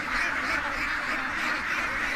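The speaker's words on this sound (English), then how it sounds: "you guys can get a view of the stream of ducks coming out from the backside" A flock of ducks quacks steadily and close by as they stream out of their pen, a dense, continuous chorus of overlapping calls.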